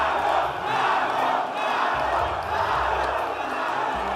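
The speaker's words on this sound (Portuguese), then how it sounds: "abriu espaço para o seu concorrente direto, que foi ovacionado pela plateia" A large audience roars with sustained cheering and shouting in an ovation for a political candidate at a major national event, a dense and steady wall of crowd noise throughout.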